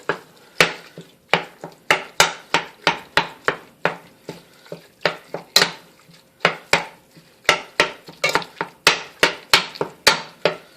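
Ground beef being broken up in a pot for chili with a utensil, giving about twenty sharp, evenly spaced knocks and scrapes against the pot, close and loud with no talking.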